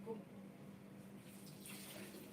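Floodwater runs steadily into a room during rain, a faint continuous trickling flow heard from close by with no talk over it.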